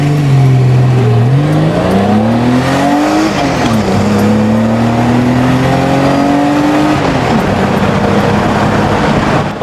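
A high-mileage BMW E30 car on the road, its engine loud and close as it revs up, shifts gears and pulls again, with a rising and falling drone throughout.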